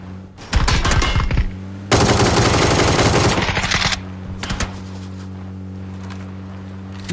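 Automatic gunfire in the video game PUBG: loud rapid bursts of shots, one long sustained volley in the middle, then fainter scattered shots, with no talking over it.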